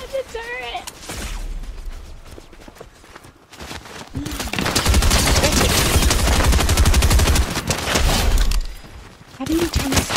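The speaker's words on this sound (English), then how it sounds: "Oh my god, the turret!" Turret gunfire in the video game Fortnite, a sustained loud stream of rapid automatic shots that swells in the middle, with a voice exclaiming near the start and end.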